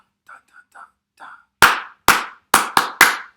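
Five sharp, close hand claps in a quick syncopated rhythm during a film music lesson on clapping back rhythms. A soft, half-whispered voice first sings the pattern as short syllables, imitating the rhythm before the claps.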